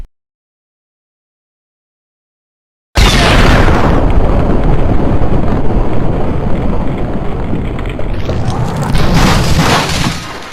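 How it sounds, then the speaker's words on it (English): A grenade explosion in the video game Max Payne erupts suddenly after silence, a loud, close boom with a long roaring, rumbling tail that stays strong for several seconds. "That grenade was almost right on me."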